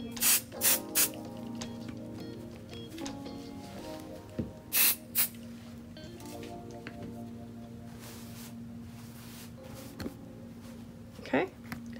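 505 spray adhesive sprayed onto fabric in short hissing bursts, several quick puffs at the start and a few more spaced out later, close and crisp over low background noise.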